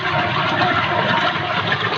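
Floodwater pours steadily down into a borewell in the ground, a loud continuous rushing, gushing roar with no pauses and no voices.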